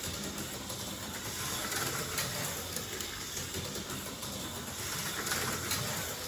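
A Camaro slot car runs on a track, giving a steady, even electric whir with a faint high whine and no pauses.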